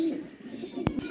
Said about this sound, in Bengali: এখানে কিছু কবুতর আছে যেগুলো বিক্রি করা হবে।